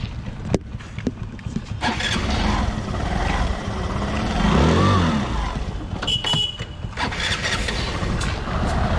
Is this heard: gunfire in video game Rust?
no